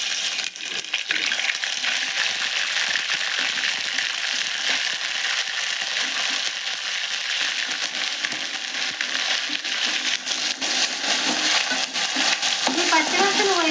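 Ginger-garlic paste sizzles and fries in hot oil for a prawn curry, a constant loud hiss broken by scraping stirs of a spoon against the pan.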